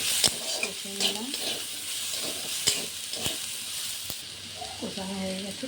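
Potato curry with turmeric, chopped tomato and coriander leaves is sautéed in a pan, producing a soft sizzle punctuated by several sharp spatula knocks, with a brief faint voice near the end.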